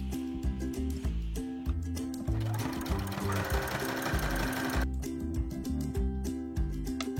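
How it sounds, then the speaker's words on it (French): Sewing machine running a zigzag stitch to join a blue and a white fabric square for an AFNOR-style face mask, its motor buzzing in quick rhythmic bursts with a short pause, fairly close and clear, with no voices. "J'ai découpé un carré bleu de la même dimension que mon carré blanc et je les assemble grâce à un point zigzag."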